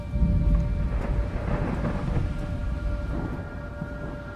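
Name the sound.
thunderstorm with rain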